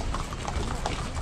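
Horse hooves clip-clop on a path at Gulmarg in Kashmir, a quick series of close, fairly loud hoofbeats with steady outdoor noise underneath.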